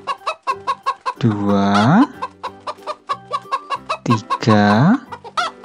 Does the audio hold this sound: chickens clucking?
yes